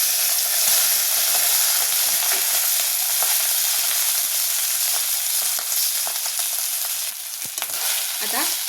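Cooked rice tossed with cumin in a pan over high flame, giving a loud, continuous hissing sizzle broken by scraping stirs near the end, with no talk.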